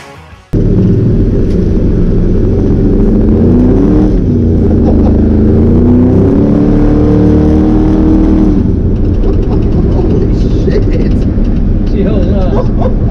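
A Dodge pickup truck with a 489 cubic inch big block, Edelbrock heads and intake, big carburetor and MSD ignition roars loudly and rises in pitch as it revs hard and spins its rear tyres, with people talking over it.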